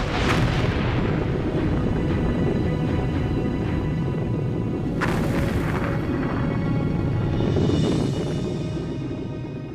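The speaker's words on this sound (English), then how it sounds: "Just south of Iceland, fishermen report explosions." Undersea volcanic eruption just south of Iceland in November 1963, with deep rolling booms and bursts over a continuous roaring rumble.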